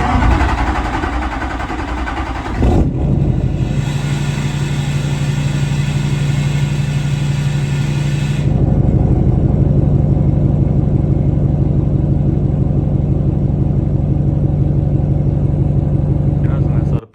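A 2004.5–2010 LMM Duramax diesel pickup engine, fitted with a PPE race plug, runs close and loud throughout with a steady idle, its tone shifting noticeably a few seconds in and again midway.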